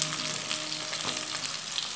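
Ridge gourd pieces fry in a pan, giving a close, dense and continuous sizzle with faint stirring scrapes, and no voices.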